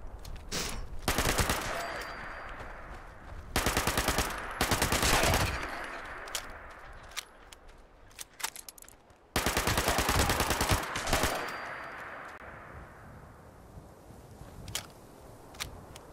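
Bursts of gunfire from Fallout 76 come in several loud clusters of rapid shots, each lasting about a second, separated by quieter stretches of footsteps and scattered single impacts.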